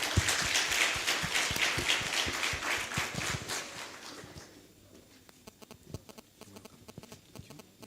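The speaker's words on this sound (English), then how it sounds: "Please, a round of applause." A seminar audience in a conference hall applauds in a brisk round of clapping that fades out midway, leaving a few scattered, isolated claps.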